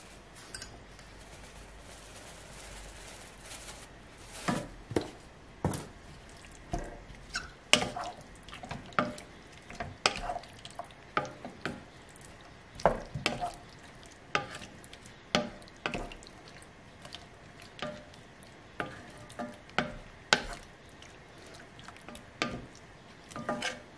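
Food being stirred and mixed with herbes de Provence: irregular wet clicks and soft taps from a utensil in a bowl, sparse at first and then frequent, close and moderately quiet, with no voices.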